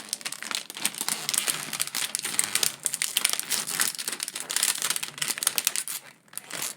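Close, continuous crinkling and rustling of a Mylar comic book bag as its top is folded over and secured with blue painter's tape, with dense crackling throughout and no talking.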